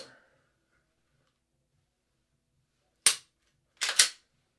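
Three sharp gunshots from a shotgun-style drill on three targets: one crack, a pause of under a second, then two more in quick succession, loud and close with silence around them.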